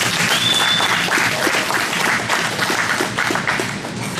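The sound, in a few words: applause for James at a jiu-jitsu gym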